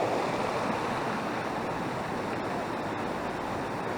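A waterfall at Lagunas de Ruidera pours into a lagoon with a steady, loud, broadband rushing roar that holds constant throughout, close by and with no voices.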